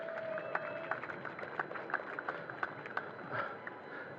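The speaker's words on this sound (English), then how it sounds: "So if we can give Sierra another round of applause" A small gathering at a city hall neighborhood coffee event applauds with scattered, sparse hand claps, individual claps standing out against a quiet room tone, fairly faint.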